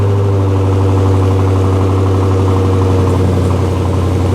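A 500-horsepower Dodge Magnum's engine idles steadily while warming up, a loud, close, continuous low rumble with an even pulsing beat and no change in pitch.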